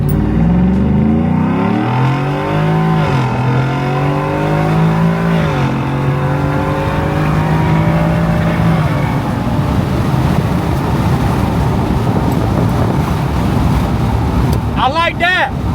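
A single-cab Ford F-150 with a new exhaust launches from 2,000 RPM, the engine note climbing in repeated rising sweeps before settling into a loud steady roar, with people talking over it.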